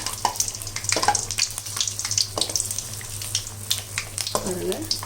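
Mysore bonda frying in hot oil as it is turned over, a steady sizzle with scraping and stirring clicks, a voice talking intermittently over it.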